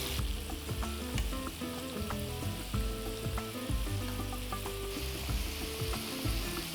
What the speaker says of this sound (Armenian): Կարմրացնելուց հետո նախ շուռումուռ կտանք տապակվելու ընթացքում